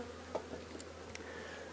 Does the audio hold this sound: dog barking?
no